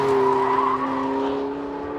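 Porsche 918 Spyder in full race mode with traction and stability control off, engine holding a loud steady high-rpm drone with tire squeal mixed in, easing slightly toward the end, no talking.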